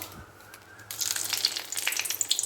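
Quiet at first, then a sudden crackling sizzle bursts out as bay leaves hit hot ghee in a wok, popping and spitting steadily.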